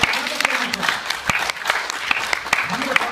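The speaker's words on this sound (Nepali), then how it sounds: "ताली बजाएर प्रभुलाई।" A church congregation claps along during a Nepali sermon, with sharp, irregular hand claps scattered through a steady, fairly close crowd murmur.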